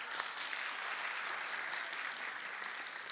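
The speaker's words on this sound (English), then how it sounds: "let's give them a round of applause" Audience applause in a church congregation during a family sermon, steady dense clapping from a room full of people, moderately distant and continuing evenly throughout.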